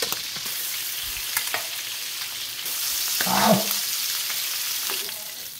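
Tuna pieces frying in a pan, a steady bright sizzle with a brief clatter of stirring or turning midway, no talk.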